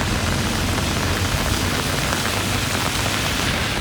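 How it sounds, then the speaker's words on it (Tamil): Heavy rain falls as a dense, steady, loud hiss with no breaks or changes in strength, and nothing else stands out above the downpour. "பலத்த மழை பெய்தது"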